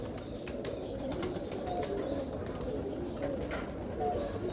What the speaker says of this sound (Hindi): सबसे अच्छा कबूतर सबसे आखिर पे दिखाया जा रहा है।